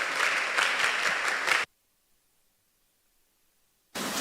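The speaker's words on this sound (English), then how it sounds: "So with a huge round of applause, shall we welcome Jeremy Acquaah as he takes us through the theme." An audience applauds to welcome a speaker at a mentorship session, a dense burst of clapping that stops abruptly, falls silent for a couple of seconds, then resumes suddenly.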